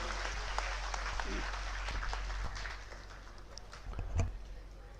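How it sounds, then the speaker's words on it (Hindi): Crowd applause greets Rajendra Shukla, deputy chief minister, at a live public event in Rewa marking a new Rewa–Raipur flight; steady clapping fills the first half, then thins and swells again briefly near the end, with no talk. "आप भरपूर तालियों से उनका आह्वान करें, उन्हें बुलाएं मंच पर। बहुत जोरदार तालियों।"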